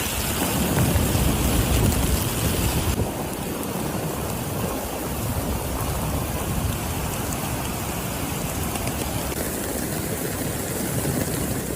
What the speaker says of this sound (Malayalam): മദീന ഹറം പള്ളി പരിസരത്തും മഴ തിമിർത്ത് പെയ്തു.